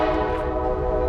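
Train rolling past at Thurmond, West Virginia, a steady, loud rumble with a sustained horn-like tone held throughout, no voices.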